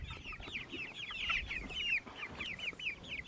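A flock of Cornish cross chickens in a chicken tractor clucks and chirps continuously, many overlapping calls rising and falling close by, with no talking.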